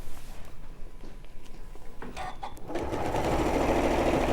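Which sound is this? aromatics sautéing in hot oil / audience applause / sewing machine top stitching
sewing machine top stitching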